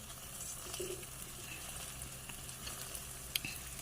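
Gola ruti batter cooking on a hot pan, a steady close sizzle and frying hiss with faint stirring scrapes and one sharp tap near the end, no voices.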